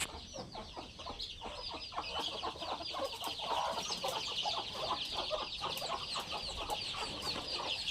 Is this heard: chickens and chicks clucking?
yes